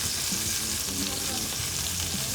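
Steak fries with whole unpeeled garlic cloves and rosemary in a scorching-hot stainless steel pan, giving a steady, loud, hissing sizzle with faint crackles throughout and no voices.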